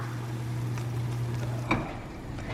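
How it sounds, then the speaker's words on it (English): A vegan black bean patty starts frying in a pan of hot oil, giving a steady low sizzle with one sharper crackle partway through; no one speaks. "Now that my oil is ready, I can pan fry my patty."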